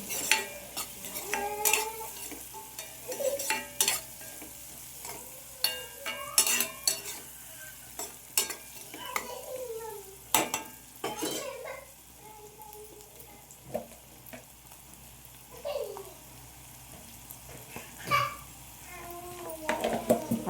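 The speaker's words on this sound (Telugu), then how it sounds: "బాగా ఫ్రై చేసుకోవాలి." Three small onions frying in a pan until golden brown, a soft sizzle running underneath with a spoon scraping and clinking against the pan in irregular bursts while a voice speaks now and then.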